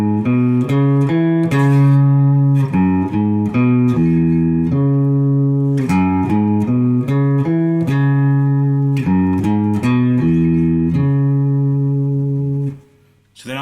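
Electric guitar playing a riff, a bluesy repeating single-note line with plucked attacks, played close and steady for several bars, alone with no talking.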